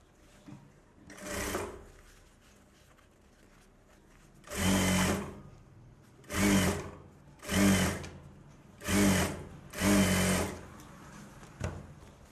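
A sewing machine joins the cross belt of a Bharatanatyam dance costume, running in about six short, loud bursts of stitching separated by pauses, with no talk.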